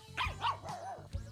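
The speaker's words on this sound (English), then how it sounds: "barks like mad at the slightest hint of movement" A pug barks several times in quick succession, heard from outside so the yaps sound muffled and fairly faint against low background noise.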